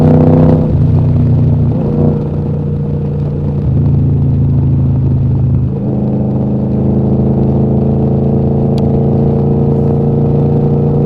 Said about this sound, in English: Good running bike. Good sounding.